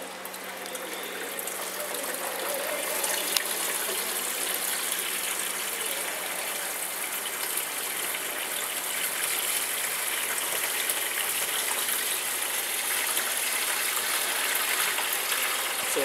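Steady rushing of water pouring over a weir on a laboratory hydraulic bench, a constant broadband hiss with a low pump hum beneath, unchanging throughout.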